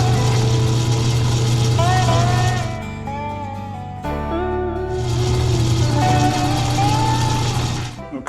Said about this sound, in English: The next thing I'm going to do is to notch it where I'm going to part it off with the parting tool